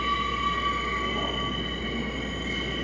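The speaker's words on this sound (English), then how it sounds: "I hear a train a-rolling. It's coming around the bend." A subway train rolls in near the Brooklyn Bridge, its steady loud rumble topped by high, sustained wheel squeal on the rails.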